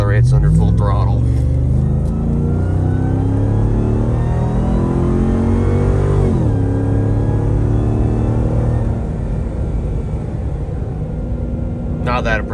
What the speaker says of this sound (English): let's see how this thing accelerates under full throttle